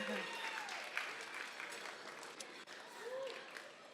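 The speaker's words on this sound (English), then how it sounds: "let's give a round of applause for all the October birthdays" Wedding guests applaud after a speech, a short burst of steady clapping that fades slightly, with faint voices mixed in.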